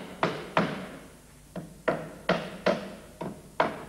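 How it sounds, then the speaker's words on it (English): Hammer blows drive nails into wood at a boatyard where glass fibre boats are also built, about eight sharp, fairly close strikes in an irregular rhythm over a quiet background. "there'll be men hammering nails into wood"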